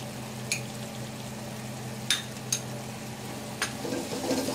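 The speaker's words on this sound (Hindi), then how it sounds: "गैस का फ्लेम स्लो रखेंगे और दही को लगातार चलाते हुए भूनेंगे" Yogurt stirred into a simmering gravy in a pan for shahi paneer over a low flame, with a soft steady sizzle and a few sharp spoon scrapes against the pan.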